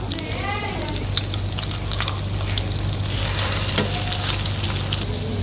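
Chicken and potato kebab patties fry in oil in a pan with a loud, steady sizzle, dotted with sharper crackles and spits over a low hum, and a faint voice briefly underneath.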